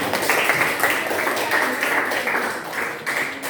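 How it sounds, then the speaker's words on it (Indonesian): Students in a vocational high school classroom clap for a group that has just presented, a brief round of moderate applause that tapers off after a few seconds. "Tepuk tangan untuk kelompok yang maju"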